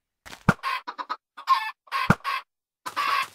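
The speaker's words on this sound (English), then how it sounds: "eggs no longer spawn full-grown chickens. They now spawn baby chicks." Minecraft chickens in a chicken cooker contraption in a video game, giving short repeated clucks and chirps in separate bursts, with two sharp hit-like clicks between them, no talk.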